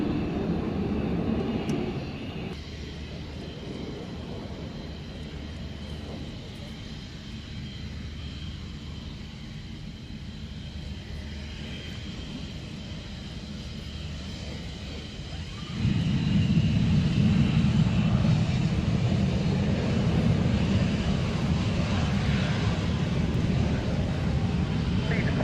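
A Tornado jet aircraft engine roars steadily nearby, swelling louder partway through, with faint voices in the background.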